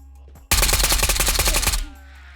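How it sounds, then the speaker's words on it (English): Loud close burst of rapid automatic gunfire in the video game Ghosts of Tabor, about a second and a half of continuous shots that stop abruptly, with no talk. "I think he has somebody else shooting at him from Radio Hill while I'm sitting here"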